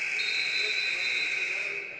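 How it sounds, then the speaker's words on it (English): Buzzer at a high school wrestling match, one loud steady electronic tone held for about two seconds before fading slightly, with a commentator talking over it. "Just in time as the buzzer sounds"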